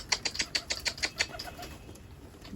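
A dolapçı pigeon beats its wings in a quick run of about eight close, sharp flaps, then the flapping fades into faint background rustle.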